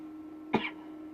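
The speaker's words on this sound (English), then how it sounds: "I promise you my cough isn't coronavirus" A single short, harsh smoker's cough bursts out of a steady background hum, close to the listener, then quickly fades.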